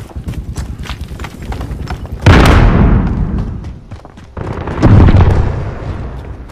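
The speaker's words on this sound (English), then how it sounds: "Grenade out!" Two loud grenade blasts in a Call of Duty multiplayer match, each a heavy boom that rumbles and fades over a couple of seconds, following light gunfire and footsteps.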